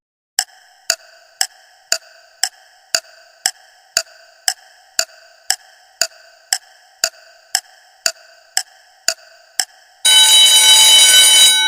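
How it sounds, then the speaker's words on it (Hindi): A countdown timer for a riddle ticks out about twenty evenly spaced electronic beeps, close and loud, then a sustained buzzer blares over the last couple of seconds with no talking. "Let's start the timer."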